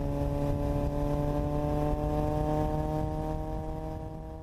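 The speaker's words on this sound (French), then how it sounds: "qu'est-ce que c'est que ce bruit? Une moto?" A motorcycle engine hums steadily in a zombie horror story, its even tone holding and then fading slightly toward the end, with no talking.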